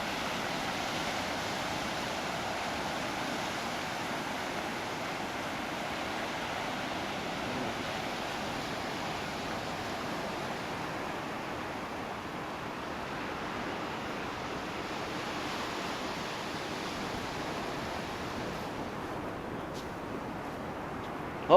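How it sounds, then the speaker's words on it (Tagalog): Big ocean waves break at the La Union surf beach in San Fernando, a steady roaring wash of surf with wind rushing across the microphone, constant and moderately loud throughout. "Ang laki ng alon, no?"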